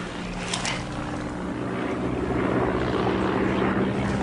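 Propeller aeroplane flying overhead above woods, a steady broad engine drone that stays loud and even throughout, with no voices.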